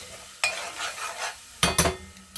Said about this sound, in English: I'm gonna add my sausage